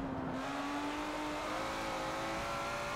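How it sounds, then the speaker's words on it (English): A race car in Forza Motorsport 7 accelerating hard out of a corner, its engine note climbing steadily in a loud, continuous high-revving whine with tire noise underneath. "Start to pick up speed and accelerate hard out."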